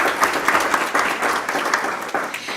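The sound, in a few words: applause for award recipients at a board meeting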